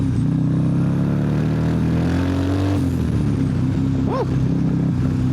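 A turbocharged Harley-Davidson CVO ST 135 motorcycle ridden on a wet, rainy road gives a loud, steady engine drone that holds close and continuous, with a brief rising and falling whine near the end.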